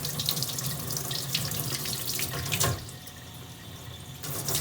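Cool tap water runs steadily into a sink to wet a waterslide decal for a candle. The close, continuous rush drops slightly in the last couple of seconds.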